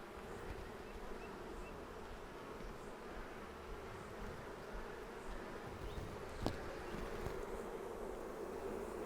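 Honeybees buzzing inside an open hive while a nuc is being installed, a dense, steady, soft drone of many wings with a faint tick partway through, no speech.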